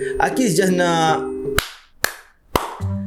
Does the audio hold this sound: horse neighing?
no